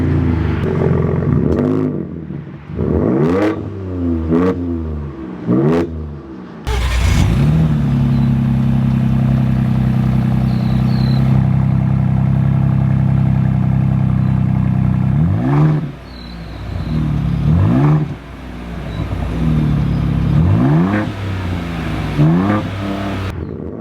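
Ford Ranger Raptor truck exhaust with its valves at the lowest setting, revved repeatedly: short rising blips at first, then a long sustained rumbling hold, followed by more quick revs, loud and close, no talking.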